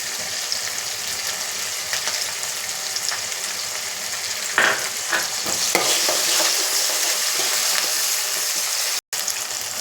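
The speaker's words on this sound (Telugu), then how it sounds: "ఇప్పుడు టమాటా ముక్కలు వేసుకుందాం." Tomato pieces for chicken curry fry steadily in a hot pan, a continuous loud hiss and crackle up close, with a few stirring scrapes partway through and a brief cut near the end.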